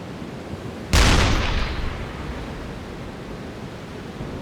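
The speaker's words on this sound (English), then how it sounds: "Deck gun. And indeed, firing as we expect." A U-boat deck gun fires once in the video game UBOAT during an attack on Soviet convoys, a single loud booming blast that rolls off into a long fading noisy tail.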